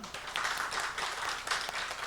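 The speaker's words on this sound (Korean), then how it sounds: "우리 박수로 축복합시다" A small church congregation claps together in steady, moderately quiet applause during a Sunday service, continuing throughout.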